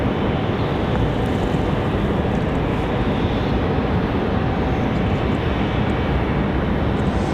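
A JetBlue Airbus A220 jet taxiing toward departure at Raleigh-Durham airport gives a loud, steady, broad rumbling roar that holds an even level throughout, with no talk.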